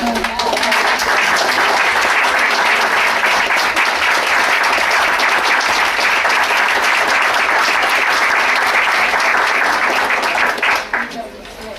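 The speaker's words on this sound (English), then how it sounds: "you deserve a round of applause also" Sustained applause from the audience at a school board meeting honoring the parents, a dense steady wash of clapping that holds strong and loud for nearly the whole stretch before thinning out at the end.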